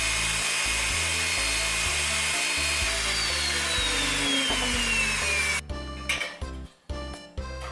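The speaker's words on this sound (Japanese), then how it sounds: "ハンドドリルをバイスに固定して120番の紙やすりで外周を削っていきます。" A part spun by a hand drill clamped in a vise is sanded around its outer edge with 120-grit sandpaper, a steady whirring rub with a rhythmic pulse that turns choppy and uneven near the end.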